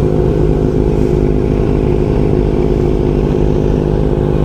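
Kawasaki Ninja motorcycle engine running, a loud, steady, close-up idle rumble holding evenly throughout without revving or any voices.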